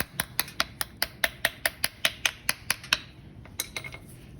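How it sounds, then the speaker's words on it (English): A screwdriver's back end taps a stuck carburetor part on a Craftsman lawnmower in a quick, even run of about twenty sharp metallic clicks. The taps pause briefly, then a few more follow. Nothing else is heard. "what I like to do is take the back of a screwdriver"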